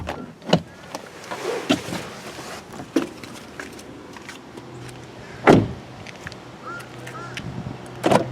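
Rear door of a 2018 Toyota Camry SE opens with a latch click and a few solid clunks, close and fairly loud, with light handling noises between.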